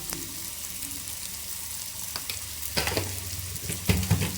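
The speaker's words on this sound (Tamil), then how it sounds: "பொன்னிறம் ஆகும் வரை நல்லா வதக்கிக்கோங்க." Onions sautéing in a pan until golden, giving a continuous sizzle with stirring scrapes that grow louder and more frequent toward the end.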